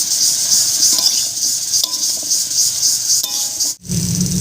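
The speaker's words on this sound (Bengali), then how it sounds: "এবারে সব কিছু একসঙ্গে মিশিয়ে নিচ্ছি" Bottle gourd with salt, turmeric and green chilli is mixed in a hot pan, a steady close sizzle with brisk stirring and light utensil clicks, cutting off abruptly near the end.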